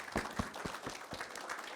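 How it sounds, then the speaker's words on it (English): An audience applauds at the end of a talk on self-driving trucks, giving a short burst of moderately loud, fairly even clapping with no voices over it. "another round of applause, please"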